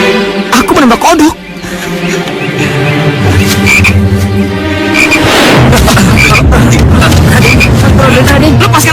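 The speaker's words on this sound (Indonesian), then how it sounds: "Kodok." A frog croaks in loud, close, overlapping calls. A brief voice-like burst comes near the start, and then the croaking carries on steadily to the end.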